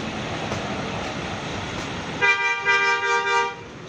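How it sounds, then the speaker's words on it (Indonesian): Vehicle horns honk repeatedly in a long queue of traffic near a bus terminal exit, several overlapping toots sounding out over steady road noise after a couple of seconds. "Saling klakson."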